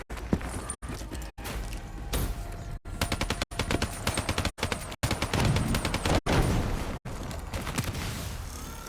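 Rapid bursts of automatic gunfire and mechanical clatter from Call of Duty Black Ops 3 play in choppy segments, fairly quiet overall, with no talking.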